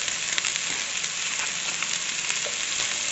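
Vegetables sauté in hot oil in a pan, a steady close sizzle and crackle running throughout with faint stirring scrapes, no voices.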